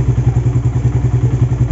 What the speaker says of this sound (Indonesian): Oke, untuk mesin sangat halus.